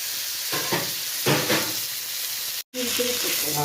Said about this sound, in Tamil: அந்த பெரிய மீனை போட்டு வறுக்க ஆரம்பிச்சுட்டு